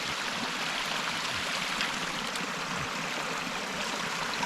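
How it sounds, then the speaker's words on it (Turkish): Running water pours steadily from a tap while hands are washed outdoors after handling a wild plant for tea, a constant close, even splashing wash with no talk. "Elimi yıkayayım"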